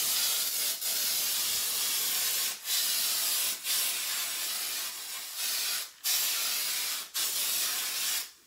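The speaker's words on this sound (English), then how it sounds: "I'm going to spray this table down with the Lysol spray." Lysol disinfectant is sprayed down over a table and other thrift store items in a run of long, loud, close hissing bursts, about seven in a row, each separated by a short pause.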